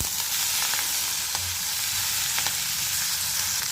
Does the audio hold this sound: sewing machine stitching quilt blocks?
no